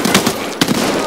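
Gunfire in Escape from Tarkov: a short rapid string of sharp shots, loud and close, with no talk over it.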